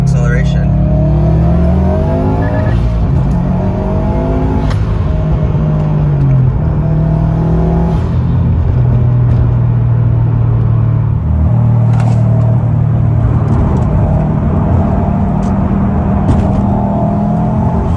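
A 2005 Subaru STI with a 20G turbo accelerates, its engine rumble climbing through the revs and dropping at gear shifts, heard loud from inside the car under someone talking.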